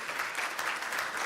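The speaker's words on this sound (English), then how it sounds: "can we give a massive round of applause to our fantastic guests?" An audience claps for the guests at a panel discussion, producing a dense, even patter of applause that stays steady and moderately loud for the whole moment.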